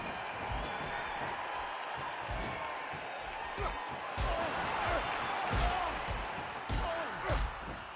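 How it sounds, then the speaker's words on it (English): A Samoan drop slam in a televised wrestling match, with a dense crowd roaring and cheering throughout and several sharp thuds on the ring mat cutting through, while a commentator talks over it. "Ultimate Warrior breaking out of that pedigree into a Samoan drop."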